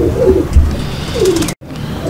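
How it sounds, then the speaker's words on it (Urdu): Club pigeons coo close by in their loft, two soft throaty calls standing out over a busy murmur of fluttering and shuffling birds, with a brief dropout near the end. "سارے وہی کبوتر ہیں۔"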